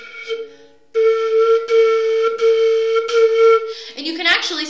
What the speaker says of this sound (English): tonguing incorrectly, which would be placing the tongue in between the teeth, would sound like this